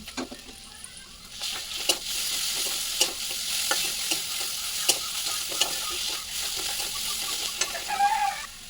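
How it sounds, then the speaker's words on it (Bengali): Garlic paste and black cumin stirred in hot oil while frying for a crab and taro-stolon chorchori, a steady sizzle broken by repeated sharp scrapes and clicks of a spatula against the pan, close and moderately loud, with no talking. "ওর মধ্যে আগে থেকে বেটে রাখা রসুন বাটা দিয়ে একটু নেড়ে চেড়ে নেব"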